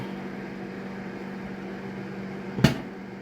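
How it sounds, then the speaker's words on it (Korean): A microwave oven running while roasting ginkgo nuts, a steady low hum with the turntable turning, and one sharp pop from a nut near the end. "자, 빙글빙글 돌아가면서 지금 구워지고 있습니다."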